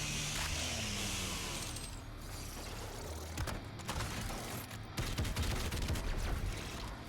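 Rapid gunfire bursts and mechanical weapon clatter from the first-person shooter Doom Eternal, dense and loud, with sharp repeated shots crowding the later seconds.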